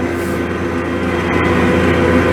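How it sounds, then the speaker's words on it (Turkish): Loud, steady engine drone and rumble inside the cab of a tractor clearing snow during heavy snowfall at night, a continuous low mechanical roar with no break throughout. "Çok gürültülü. Traktörün içi çünkü."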